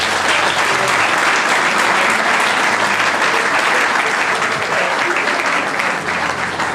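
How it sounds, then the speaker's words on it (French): Large gala audience applauding loyal employees, a loud, dense, continuous wash of clapping from many hands, sustained evenly with no pauses. "Et j'aimerais également qu'on applaudisse pour eux, mesdames et messieurs"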